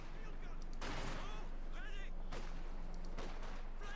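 Gunfire in the World War II strategy game Company of Heroes 2, heard as a few scattered distant shots and impacts under a constant background hum while a commentator talks over the action.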